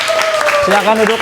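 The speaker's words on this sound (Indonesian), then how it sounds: "Berikan tepuk tangan dulu." A classroom applauds after a group presentation, the clapping a soft, dense patter kept low beneath a teacher who talks over it the whole time.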